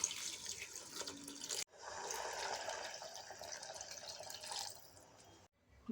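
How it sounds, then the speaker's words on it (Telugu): Water pouring into a pot of Mysore dal with turmeric, tomato and lentils, a steady splashing stream broken by a short gap partway through, close and fairly loud with no talk. "వాటర్ పోస్తున్నా అండి."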